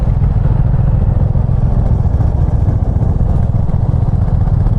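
A standard 2025 Royal Enfield Classic 350 motorcycle in black running its engine close by, a loud, steady, low thumping rumble that holds evenly throughout with no voices.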